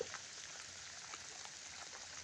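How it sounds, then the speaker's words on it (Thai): Rain falling at an old rock quarry pond during fishing, a soft, steady hiss of drops on water, faint and distant, with no talk. "ตอนนี้ฝนตกด้วยนะครับ"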